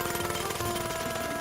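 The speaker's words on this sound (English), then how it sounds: "And a jackhammer." A cartoon jackhammer from My Little Pony rattles in a dense, rapid burst of hammering, loud and continuous for a brief moment.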